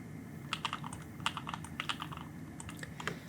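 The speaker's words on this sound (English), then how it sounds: "This is a TKL sized keyboard" Rapid typing on a compact tenkeyless computer keyboard, a steady run of crisp, close keystroke clicks with a few louder taps over a low background hum, with no talking.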